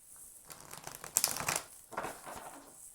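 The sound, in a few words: shuffling an Illust Tarot card deck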